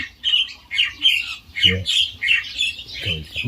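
Bird calling loudly outdoors, rapid repeated squawking notes close and continuous, with a few brief low bumps underneath.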